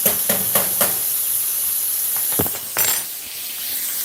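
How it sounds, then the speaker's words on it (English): Steady close-up sizzling and hissing of pork frying in butter in a pan, with a few brief clattering bursts over the constant crackle. "These bad babies are frying away."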